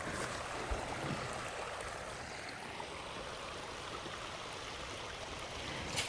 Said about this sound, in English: Then we strolled along the river.